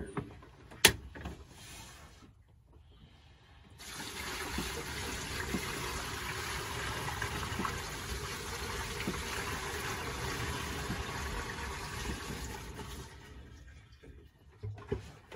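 Water runs steadily into an RV trailer's black water tank during rinsing, a continuous rushing flow at moderate level that starts after a brief knock and some quiet, then tapers off near the end.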